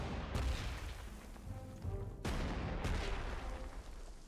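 Artillery fire in the wartime strategy game Panzer Corps 2, with three sharp booming shots, one near the start, one around the middle and one shortly after, each trailing off into a rumbling decay.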